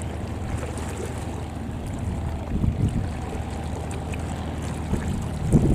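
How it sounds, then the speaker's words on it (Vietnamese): Large festival boats motoring together up a river at a boat festival in Sông Đốc, Cà Mau, a steady low engine drone with wind and water rush, a few louder bumps near the end. "ghe bắt đầu tập trung đang chạy vô."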